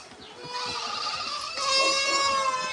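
Goats bleat repeatedly at an animal farm, several overlapping wavering calls close by that grow slightly louder toward the end, with no talk over them.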